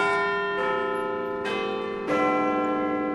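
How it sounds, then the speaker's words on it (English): A clock strikes chimes in the Big Ben Westminster pattern, played slowly: three resonant bell strokes arrive about a second apart, each ringing on and overlapping the last, with no speech. "These are the same 4 chimes that old-timey clocks use like Big Ben and the Westminster,"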